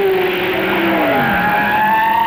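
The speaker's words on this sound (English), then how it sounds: "Lucas in the Ford heads for his accident." A Ford sports racing car at the 1967 Brands Hatch six-hour race skidding into an accident; loud engine tone with a falling, then rising pitch sweep and tyre noise, continuous and close.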